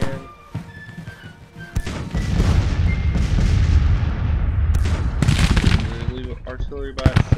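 Artillery booms and battle noise from the Civil War strategy game Grand Tactician, with repeated heavy thuds and crashes over a dense, loud, sustained rumble of cannon fire.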